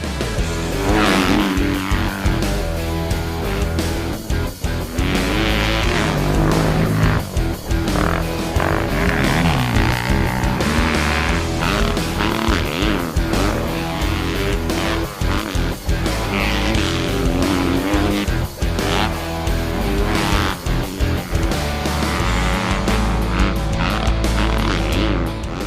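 A 2014 Kawasaki KX250F motocross bike being ridden, its engine a loud, continuous raspy drone that rises and falls with throttle changes for the whole stretch, with no voices.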